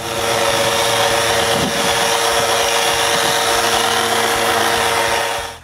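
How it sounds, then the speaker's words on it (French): A power sander runs loud and continuously over a dirty 4x6 wooden beam outdoors, a steady whining drone with slight shifts in pressure throughout. "Il est pas mal sale. Donc, René va le sabler dehors."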